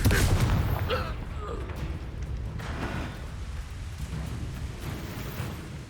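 In Hogwarts Legacy, the Confringo fire-blast spell goes off in a loud burst at the opening, then trails into a rumbling roar that slowly fades over the rest of the moment.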